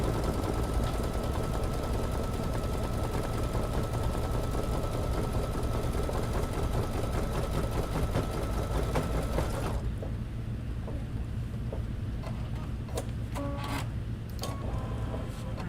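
An embroidery machine stitching an appliqué banner with a tile scene, a loud rapid continuous mechanical chatter close by that drops to quieter, intermittent clicking and whirring partway through.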